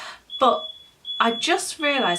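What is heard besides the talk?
smoke alarm beeping, set off by burnt toast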